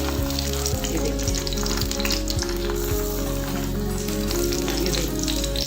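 A paratha fries in a pan over a low flame, giving a steady, close sizzle that holds evenly throughout with no talking.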